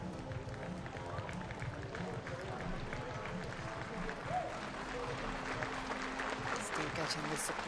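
A gymnastics arena crowd claps steadily behind a gymnast's floor routine, with rhythmic applause building slightly over several seconds while a commentator talks over it.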